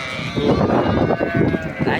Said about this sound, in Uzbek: mana qo'zlar qaranglar